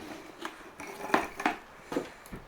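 Gold nuggets stirred around in a pan before a silicone nugget trap test, giving several brief scraping, clinking rattles at irregular intervals, fairly close and quiet, with no talking.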